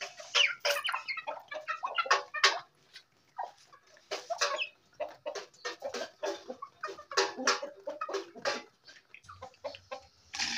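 Chickens, including Blue Australorps and Silver Laced Wyandottes, cluck and chatter close by on a rooftop chicken farm in dense, irregular bursts, with short pauses between flurries of calls.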